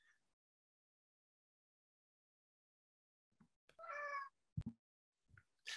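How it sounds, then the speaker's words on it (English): A house cat meows a few times, short close calls set against near silence, with a soft knock or two between them. "Did your cat have a question there, Ellen?"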